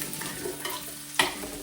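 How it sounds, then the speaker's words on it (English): An onion cooks in a pan over medium heat, giving a steady close sizzle with light stirring scrapes and one sharper clatter near the end. "Let the onion cook down for a couple minutes, let it soften."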